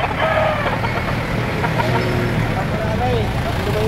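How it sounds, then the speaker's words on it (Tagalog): Chickens sold at a market in Padre Garcia, Batangas, cluck and squawk intermittently amid a busy crowd, with people talking over them throughout. "Magandang mga manok."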